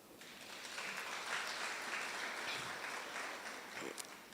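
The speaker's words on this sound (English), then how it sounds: "I want you to clap hands for yourselves" College graduates at a TVET graduation ceremony clap for themselves, a faint, distant, steady patter of many hands across a few seconds.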